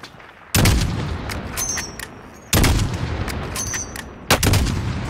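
Gunfire from Call of Duty Warzone: three loud, sharp bursts of shots, each followed by a short rattling tail and a quieter gap, close and punchy, with no talking.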